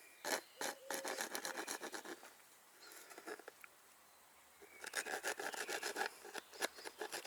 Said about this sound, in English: Now just got to file those little last bits off like this one.